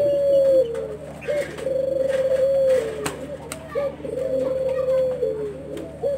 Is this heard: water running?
no